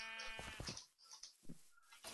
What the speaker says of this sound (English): You should deduct some points for all the sheep and the noise.